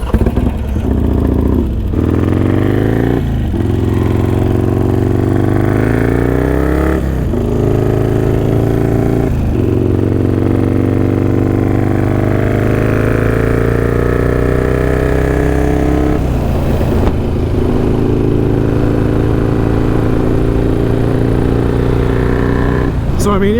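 A Harley-Davidson Sportster rebuilt from an Iron 883 to 1275 pulls away, its loud, close engine rising through several gear-shift pulls with rapid revving and clatter, the note climbing and dropping repeatedly.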